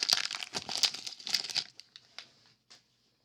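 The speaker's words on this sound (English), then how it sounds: "looking for Sammy Sosa's or Ken Griffey Jr., among other rookie cards, and some star cards out of the pack" Foil wrapper of a 1990 Leaf Series 1 baseball card pack crinkling and tearing open up close, a burst of sharp rustles that thins out into a few light crackles.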